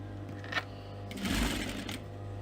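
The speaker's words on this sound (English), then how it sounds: "we're going to sew, leaving a gap in the middle" A sewing machine stitching purse lining pieces together in a short, close burst of rapid mechanical whirring, with quiet handling noise before and after.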